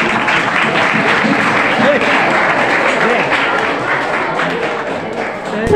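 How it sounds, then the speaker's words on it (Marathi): A school annual prize-distribution ceremony audience gives loud, sustained applause for students, dense clapping filling the hall with a voice speaking over it. "या आपल्या कुणी विद्यार्थ्यांसाठी जोरदार टाळ्या वाजवायचे आहेत."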